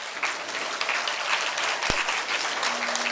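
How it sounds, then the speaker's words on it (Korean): Conference audience applauding sign language interpreters, a brief burst of dense, steady clapping with one sharp click partway through. "조희경 선생님, 그리고 한국어 수어를 해주시는 권동원 선생님께 박수 부탁드리겠습니다."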